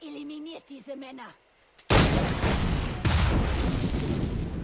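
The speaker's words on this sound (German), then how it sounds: "Da hinten sterben in Explosionen meine Männer." Explosions in the video game Assassin's Creed 4 Black Flag: after a voice speaking, a sudden loud booming blast erupts, followed by a second rumbling explosion and sustained crackling gunfire-like roar.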